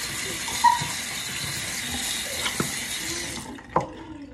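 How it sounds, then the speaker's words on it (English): Warm water runs from a tap in a steady, close hiss for a few seconds, with small clatters and knocks, then cuts off, leaving a brief quiet with a faint thump. "I'm just gonna use a little warm water."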